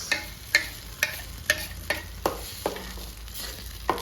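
Potato curry being stirred in a pan with a spoon, regular scraping strokes about every half second over a low steady sizzle, fairly close.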